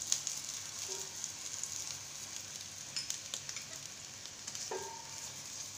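Cauliflower paratha sizzling in oil in a pan, a steady broad crackle that continues throughout with a few brief clinks and stirring sounds, no talk.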